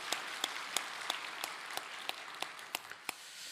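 A church congregation at a Sunday worship service applauds together, a dense, even wash of clapping with sharper individual claps popping out, steady throughout.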